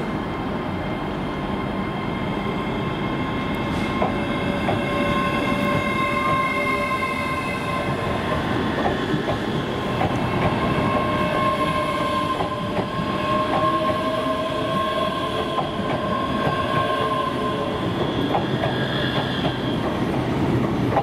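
A Class 385 electric train of four coaches rumbles steadily along the rails, with rhythmic clacking and faint metallic squeals drifting above the continuous low roar.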